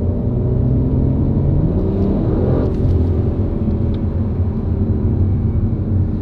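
Audi RS4 engine heard from inside the cabin on a drive in Spain, a loud, steady low rumble with a brief rise in revs midway, no talk.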